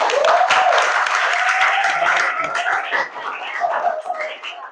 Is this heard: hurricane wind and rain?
no